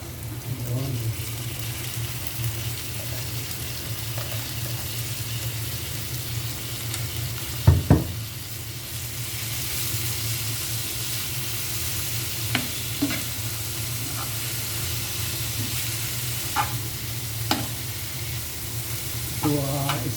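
Marinated meat sizzles and fries steadily in a pan for Filipino-style cooking, with a continuous loud sizzle and occasional clanks and scrapes of a utensil stirring; one sharper knock near the middle, no talking.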